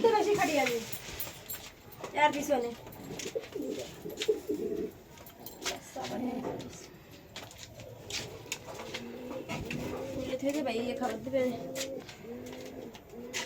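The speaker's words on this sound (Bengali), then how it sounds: "কতগুলো আছে কবুতর" Pigeons on a rooftop pigeon farm with a vegetable garden, cooing in repeated soft, throaty bursts at close range, while people talk at times over the birds.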